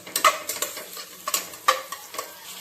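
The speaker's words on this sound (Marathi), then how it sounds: "पेस्ट आणि टमॅटो एकदाच टाकून घेतला आहे मस्तपैकी हलवायचं" A spoon stirs onion paste and tomato frying for a mutton curry, giving a close, rhythmic series of scraping clatters over a low continuous sizzle.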